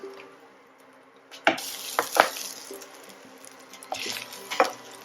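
An inch of ginger frying in a pan gives a soft, low sizzle, broken by a few sharp clinks and scrapes of a spoon stirring against the metal.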